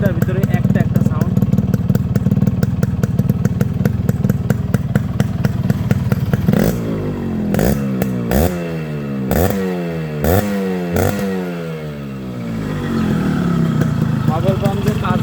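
A Yamaha RX 100 two-stroke motorcycle with a fresh silencer pipe idles with a rattling burble, then is blipped repeatedly in sharp, loud revs that rise and drop in quick succession.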